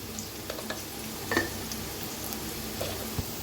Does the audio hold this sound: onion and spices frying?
yes